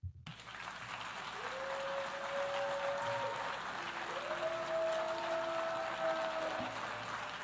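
Rowdy applause and cheering from a large audience in a UN assembly hall, steady and sustained throughout with a couple of tonal whistles rising above the crowd.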